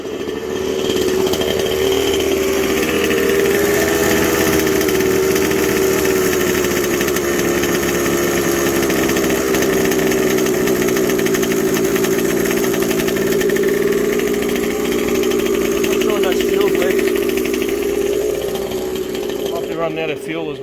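A 1/5-scale Losi 5T RC car's petrol engine runs close by with a loud, steady, high-revving buzz that holds for the whole stretch.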